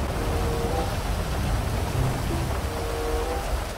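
Steady, dense rainfall in the GTA V video game, a loud continuous hiss of rain with low rumbling underneath and no speech.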